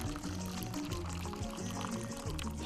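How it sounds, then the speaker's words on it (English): Water pours and splashes steadily as cooked kontomire (cocoyam) leaves are drained, a continuous liquid rush with faint voices in the background. "So we are draining the water out of the inkontomire."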